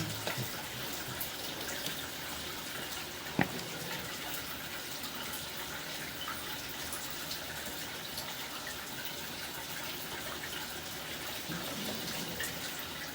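Steady rush of water flowing through a house's open drain line toward the main during a plumbing inspection, a continuous broadband wash at constant level with one brief knock partway through, and no talking.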